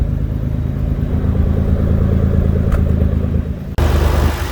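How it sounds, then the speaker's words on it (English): A Nissan 300ZX Fairlady Z32 twin turbo with a manual gearbox idles loudly and close, a steady throbbing engine note with a brief break near the end before it resumes, no talk. "the engine is running beautifully now"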